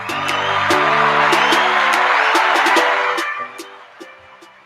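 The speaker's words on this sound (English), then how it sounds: "One more round of applause, y'all." Applause with some whoops from a podcast show audience, loud and dense at first with a sustained musical tone beneath, then thinning and fading out over the final second or two.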